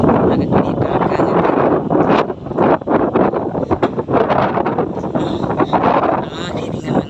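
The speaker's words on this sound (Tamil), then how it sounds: "இப்பொழுது காற்று பலமாக வீசுகிறது" Strong coastal wind buffets the microphone in loud, gusty bursts over a continuous roar, rising and dipping unevenly, with a voice speaking intermittently underneath.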